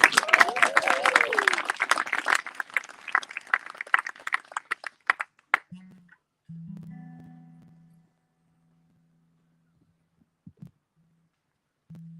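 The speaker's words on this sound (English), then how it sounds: "massive round of applause" An audience at a theatre company's twentieth anniversary show applauds and cheers for a performer, with dense clapping that thins into scattered claps and fades out, followed by quiet low tones.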